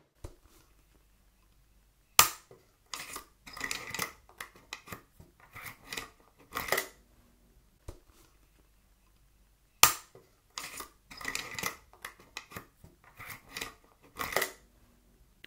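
Lever-arch mechanism of a ring binder being flipped open and shut, giving two clusters of sharp metallic clicks and snaps with quieter rustling between them, close and alone.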